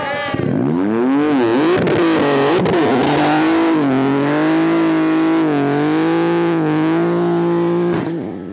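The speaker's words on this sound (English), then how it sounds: "Former two-wheel drive champion Jason Bailey is now fully committed to all-wheel drive in his Fiesta RC3" A Ford Fiesta RC3 all-wheel-drive rally car runs a snowy stage at Rallye Perce Neige, its engine loud and close, holding a sustained high rev with small rises and dips, then briefly cutting off near the end.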